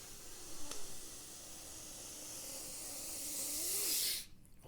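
One long, deep breath drawn in during a breathing exercise, a steady airy hiss swelling gradually louder over about four seconds before cutting off abruptly, close and alone.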